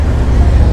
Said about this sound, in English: so you don't have to listen to all this traffic